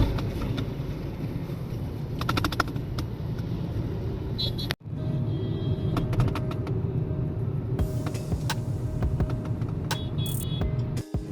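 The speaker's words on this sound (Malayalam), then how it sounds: "ഈ ബെസ്റ്റ് ബസ്." Dense Mumbai city traffic with a BEST bus among the vehicles, a steady loud rumble of engines and road noise with brief horn-like tones, continuous apart from a short dropout midway.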